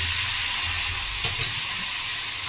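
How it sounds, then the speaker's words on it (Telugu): Tomatoes sizzle in a hot pan for a paneer curry, a loud continuous frying hiss with a brief crackle burst partway through. "ప్యాన్ కొంచెం హీట్ అవ్వగానే దాంట్లో కొన్ని టమాటాలు వేసుకోవాలి"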